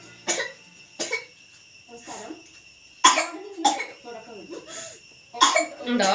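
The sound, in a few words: child coughing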